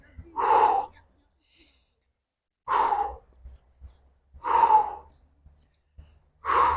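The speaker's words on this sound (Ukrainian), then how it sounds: "Момент вдиху, видих, видих, вдих, видих." Audible breaths come during a morning full-body exercise routine, with four distinct, forceful exhalations spaced a second or two apart and quiet pauses between them, heard close up.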